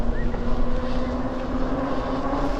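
Electric bike motor under throttle on a ride in early-2022 winter weather with some snow, giving a steady close whine as a sustained tone over constant wind and road rumble.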